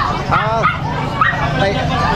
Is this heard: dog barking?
yes